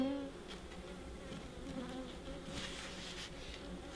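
Honeybees from a crowded bird-box hive buzz steadily around the colony, a dense, continuous drone with no speech over it.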